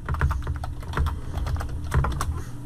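Rapid, close clicking on a computer keyboard as a username and password are typed, an uneven run of crisp keystrokes with no talk.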